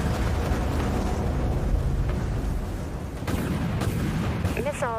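Capital ship weapons fire in the Dreadnought space combat game, a dense continuous roar of booming blasts at steady loud level, with no talk.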